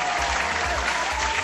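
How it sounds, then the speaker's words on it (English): Dense, steady clapping from many hands fills the whole stretch, continuous and fairly loud with no voices on top. "Where's all that clapping coming from?"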